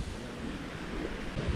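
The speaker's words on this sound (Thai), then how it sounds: "มีน้ำตก" A waterfall along a rocky Bukhansan hiking trail in Seoul gives off a brief, steady rushing roar of falling water, even and unbroken.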